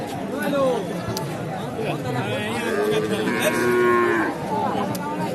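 Native red bull calves at a traditional cattle market in Naogaon, mooing repeatedly in long, drawn-out calls over a steady murmur of crowd chatter, with several animals close by.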